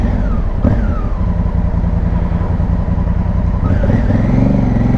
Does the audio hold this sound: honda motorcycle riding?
yes